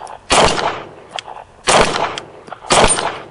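Gunshots ring out against a Do-All Outdoors Blast Back steel target, with three loud, sharp reports spaced about a second apart, each trailing into a metallic ring and echo, plus a few fainter clicks between.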